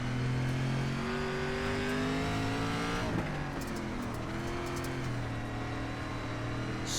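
Race car engine in the iRacing sim at Fairbury Speedway, an SRX Series car, held loud and steady throughout with rising and falling revs as the throttle is worked through corners.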